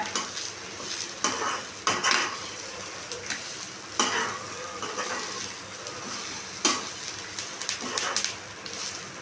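Coconut, red chillies, garlic and chana dal sautéing in a pan for bottle gourd chutney: a continuous close sizzle broken by repeated scrapes and clinks of a spoon stirring against the metal.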